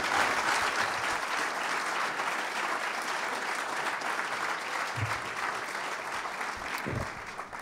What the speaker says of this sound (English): let's give another just big round of applause to this 2014 unforgettable class